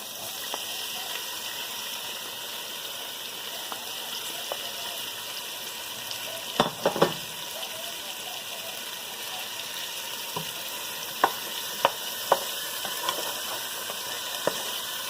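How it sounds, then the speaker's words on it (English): Beef frying in hot oil in a pot gives a steady sizzle and hiss, with a few scattered knocks and scrapes from a wooden spoon stirring the meat. "All right, the oil's heated up now, and I've got my trusty old wooden spoon, and I'm going to get this meat dumped in"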